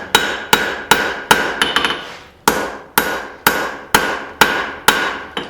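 A hammer forges the tang of a blade made from dug-up junk metal, striking hard in a steady rhythm of about a dozen loud, ringing blows, close and alone, with a brief pause midway.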